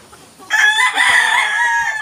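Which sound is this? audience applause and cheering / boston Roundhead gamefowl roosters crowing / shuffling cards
boston Roundhead gamefowl roosters crowing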